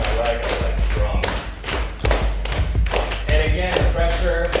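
Hands beat on a thigh like drums as self-massage during a live total body workout, close and fairly loud with an uneven patter of thuds and taps that dips briefly in the middle.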